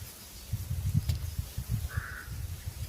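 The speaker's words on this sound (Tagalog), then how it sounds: "Ito, may uwak." A single crow caws faintly in the distance, heard once over a low rumbling background.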